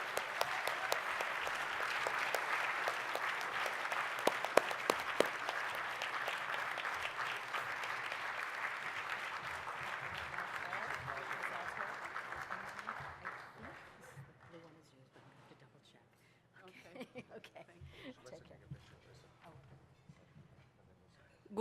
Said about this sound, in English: Now a really big applause.